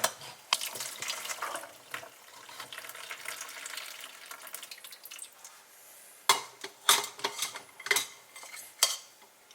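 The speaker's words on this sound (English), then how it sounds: "So now I'm going to strain it." Cooked tea is strained through a utensil, with soft liquid pouring and trickling at first, then a run of sharp clinks and scrapes of metal against a pot or cup near the end.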